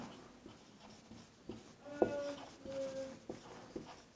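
Marker or chalk scratching and tapping on a board during a Class 10 maths lesson, a run of short strokes and squeaks at close range with no talking.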